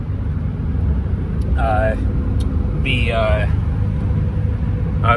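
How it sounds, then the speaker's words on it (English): A steady low engine and road rumble from inside a moving 2003 Ram 3500 pickup truck with a 5.9L Cummins diesel, with a couple of brief voices over it. "there's just a ton of random noises that this truck is making"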